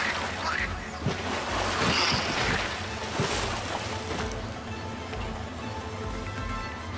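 Rising water in Ratchet & Clank: a broad rushing, surging wash of water swells and churns steadily, loud and close, with soft splashes and a low rumble underneath.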